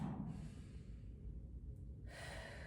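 Deep breathing during a foam rolling stretch for thoracic mobility, a quiet close-up inhale and longer exhale with a pause between them, soft and faint with no talking.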